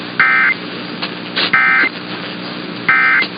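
Emergency Alert System test tones sound as three loud, identical electronic bursts, each about a third of a second long, spaced roughly a second and a half apart with faint noise between.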